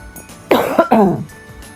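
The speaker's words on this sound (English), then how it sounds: "I'm sorry, I'm going to have to cough again." A few loud, close coughs in quick succession, harsh and throaty, with near silence on either side.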